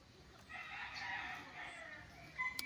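Chickens in farm coops, with a rooster crowing in one sustained call near the middle and a few sharp clucks toward the end, heard at moderate distance over quiet background.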